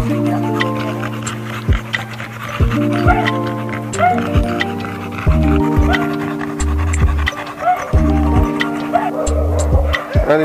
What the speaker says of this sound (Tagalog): Susunduin namin yung ano, yung aso niya, si LB.